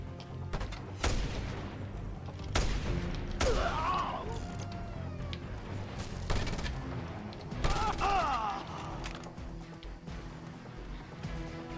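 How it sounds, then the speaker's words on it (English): Assault rifle fire in the video game Just Cause 2, with several loud bursts of rapid shots spaced across the scene, mixed with crashing impacts and a voice speaking between volleys. "Oh, fucking assault rifles."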